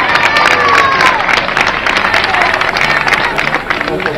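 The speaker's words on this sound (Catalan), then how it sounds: "le aplaudimos un fort aplaudiment" A crowd claps and cheers for a prize winner at a village road race awards ceremony in Albuixech, with loud, dense clapping mixed with background chatter and some faint amplified voice.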